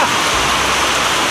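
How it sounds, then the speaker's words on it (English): Heavy rain pours down in a dense, steady hiss, close and loud with no talk, during a cycling trip through Odisha. "Rain has become very heavy."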